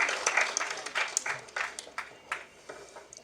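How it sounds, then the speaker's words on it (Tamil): An audience at a film press meet and audio and trailer launch claps for a first-time director. The clapping comes in loose, uneven bursts of moderate volume that thin out toward the end. "வாங்க, ஒரு பெரிய கைத்தட்டல் கொடுக்கலாம் முதல் பட இயக்குனர் திரு ஜான் தாமஸ் அவர்கள்."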